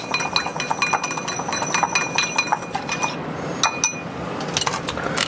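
A utensil clinks against a bowl as hot sauce is mixed into okra batter. The light, repeated clinks and scrapes are close and alone, with no talking.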